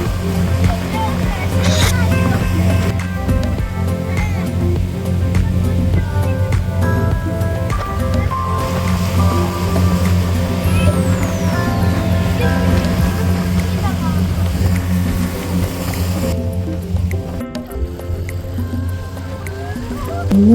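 Speed boat cruising on the backwaters at Kumarakom, a strong steady engine drone with rushing water and wind throughout, voices talking over it.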